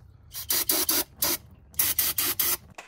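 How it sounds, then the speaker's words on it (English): Brake cleaner is sprayed into a car differential in about nine short hissing bursts of varied length, close and crisp, separated by brief quiet gaps. "I'm going to spray some brake cleaner down here."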